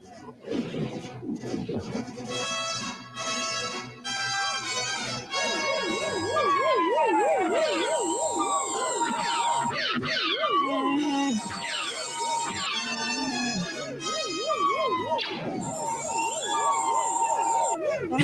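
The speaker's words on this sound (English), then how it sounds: "That siren sounds like something from the Tantive 4." A warbling siren sound effect from the 1978 Star Wars Holiday Special rises and falls in fast wavering sweeps. Other electronic tones and effects sound alongside it, loud and continuous throughout.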